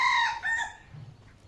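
Chickens cluck and a rooster crows nearby on a farm, loud calls at the start giving way to softer clucking and faint background noise.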